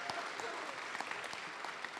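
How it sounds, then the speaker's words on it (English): Steady applause from an audience at a city council evening session honoring a student, continuous clapping at moderate level with no voices over it. "give her a round of applause"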